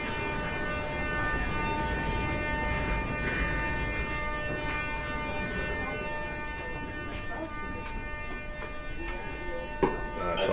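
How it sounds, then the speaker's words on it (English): A Moscow metro train ride for one stop: steady broadband rumble and rail hiss of the moving carriage, with faint tonal whines and a brief clank near the end, heard from inside the car. "So I'll get on the train, it's only for one stop."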